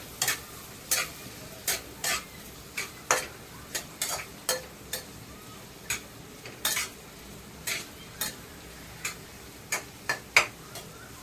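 A spatula taps and scrapes rhythmically in a pan of frying vegetables (beet, carrot, broccoli, pointed gourd, beans, spring onions, onion, tomato, green chili, butter), with sharp metallic clicks about every half second over a faint, low sizzle.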